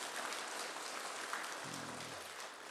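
A congregation at a Sunday worship service in a church applauds, giving a soft, steady wash of many hands clapping that sounds somewhat distant and continues without talk.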